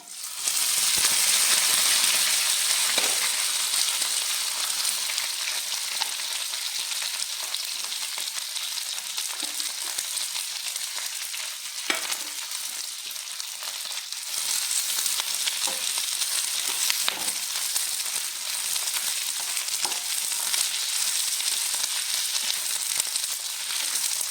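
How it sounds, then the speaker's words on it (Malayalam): Okra frying in oil with garlic in a pan makes a constant, loud, hissing sizzle close by, with scattered small pops and light stirring knocks throughout. "ഫസ്റ്റ് എണ്ണ ഒഴിച്ച് വെളുത്തുള്ളി ഇട്ട് ഇനി നമ്മൾ വെണ്ടയ്ക്ക ഇട്ട് കൊടുക്കുക"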